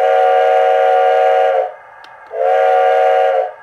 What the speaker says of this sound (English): So let's listen to the engine's whistle.